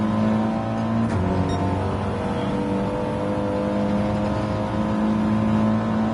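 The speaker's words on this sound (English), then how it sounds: "I kept hearing car sounds, but I couldn't locate them." Several racing car engines in a GT4 racing video game at Kyoto, a steady continuous engine drone with revving layered throughout, fairly loud and without speech.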